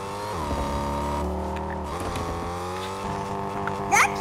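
A car in a video game drives with a steady engine tone that shifts pitch as it accelerates and slows, ending with a brief sharp squeal-like burst.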